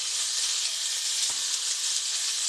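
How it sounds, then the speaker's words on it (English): Bacon sizzles steadily in a pan, a dense continuous crackle and hiss holding an even loudness throughout, close by with no talking. "add your bacon. This got to be cooked until crispy"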